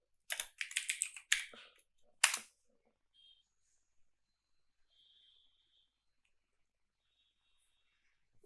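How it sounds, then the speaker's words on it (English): A computer keyboard is typed on in a quick burst of clicking keystrokes followed by one firm key press, then near silence with a faint tone, close and alone without speech. "Give the confirmation by typing yes,"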